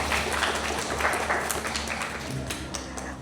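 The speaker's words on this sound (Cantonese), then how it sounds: "再一次俾掌聲你哋自己先" An audience at a Hong Kong recitation and storytelling competition at Sheung Wan Civic Centre claps together in a steady, dense patter of applause that fades slightly toward the end.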